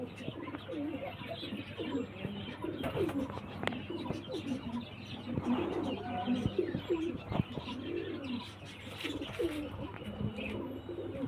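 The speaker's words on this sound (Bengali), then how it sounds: "দেখুন, হাট কালেকশন পায়রা দেখুন।" Market-bought pigeons coo steadily at close range, the soft rolling calls repeating over a continuous low hum, with a few sharper chirps mixed in and no talking.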